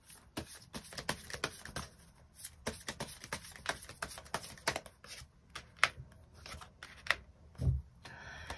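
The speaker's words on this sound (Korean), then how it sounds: "6번 분들 추가 카드로 이번 한 해 잘 보낼 수 있는 조언 카드 몇 장 더 뽑아보도록 하겠습니다" Tarot cards being shuffled and drawn during a reading, a quiet run of soft papery riffles and light taps with a few sharper flicks and a low thump near the end, with no voices.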